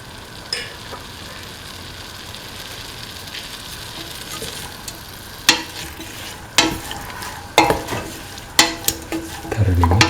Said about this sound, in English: Mix in the green peas.